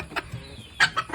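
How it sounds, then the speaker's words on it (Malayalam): Native country hens cluck in short, separate bursts, a few soft calls close by in a quiet space, with no talk over them. "നമ്മുടെ പുതിയ ബാച്ച് കോഴികൾ എത്തിയിട്ടുണ്ട്"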